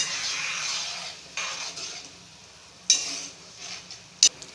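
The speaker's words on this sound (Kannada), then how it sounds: "ಸ್ವಲ್ಪ ಹಸಿ ಗೊಜ್ಜಿಗೆ ಸ್ವಲ್ಪ ಎಣ್ಣೆ ಬಿದ್ದರೆ ಚೆನ್ನಾಗಿರುತ್ತೆ, ಅದಕ್ಕೋಸ್ಕರ ನಾನು ಫ್ರೈ ಮಾಡ್ತಾ ಇದ್ದೀನಿ" Raw tamarind gojju frying in oil gives a steady soft sizzle with a few sharp clicks of a spoon against the pan, continuous and close, with no talking.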